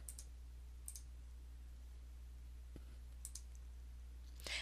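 Computer mouse clicking on a calendar in a learning management system, a few sparse, sharp, close clicks spaced seconds apart over a low steady hum.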